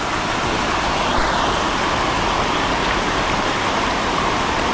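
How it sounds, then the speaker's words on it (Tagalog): Heavy rain pours steadily and loudly without a break, a dense continuous hiss, outdoors in tall overgrown grass. "Ngayon ulan naman. Yan po, lakas niya, no?"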